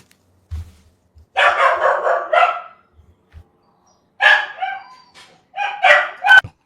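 A dog barks in several loud, close bursts of rapid repeated barks separated by pauses, with faint low thumps in between.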